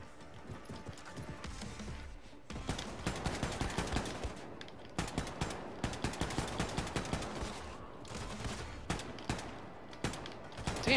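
A shotgun turret firing in Wolfenstein 2: The New Colossus, heavy repeated blasts at a steady rhythm, loud and close, with a short gap early on before the shots resume.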